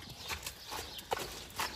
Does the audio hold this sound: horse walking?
yes